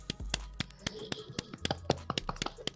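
Scattered, sharp hand claps in a radio studio welcoming a guest to the show, irregular and fairly quiet, with a low hum underneath.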